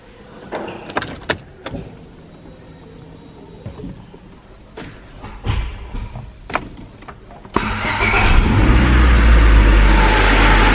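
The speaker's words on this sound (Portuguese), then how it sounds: "Vamos aqui ligar o carro." A Honda car fitted with stainless steel exhaust headers: clicks and door thumps, then the engine cranks and catches into a loud, sustained idle with rising revs, close by.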